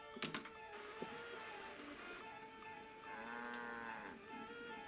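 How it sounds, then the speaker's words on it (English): A cow moos in the video game Secret of the Old Clock, a drawn-out low call that rises and falls, heard fairly faintly over a soft ambient background. "There's gonna be a cow there, isn't there?"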